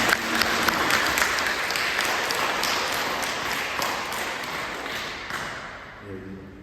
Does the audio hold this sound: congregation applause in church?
yes